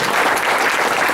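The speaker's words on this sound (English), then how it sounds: "Let's give a warm round of applause to Livermore." A school audience at a student awards event gives a warm round of applause, a dense, loud burst of clapping that fills the brief moment.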